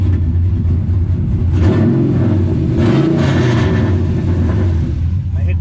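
A RAM truck's engine, its exhaust cutout open, gives a deep steady rumble with a couple of brief swells in revs, loud and close, and some speech mixed in.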